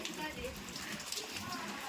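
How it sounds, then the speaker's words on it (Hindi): Heavy rain pours down steadily outdoors during a thunderstorm, a dense, continuous hiss of drops that stays level throughout. "आप लोग देखो कितना जोर से बारिश होने लगी है।"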